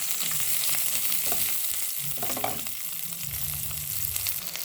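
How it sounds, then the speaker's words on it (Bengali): Chopped onions sizzle steadily in a hot pan for a spicy tengra fish curry, with occasional spatula scrapes and stirring clatter breaking through the close, constant frying hiss. "এবার আমি পেঁয়াজ কুচি দিয়ে পেঁয়াজ কুচিটাকে ভালো করে নেড়ে চেড়ে হালকা করে ভাজতে হবে।"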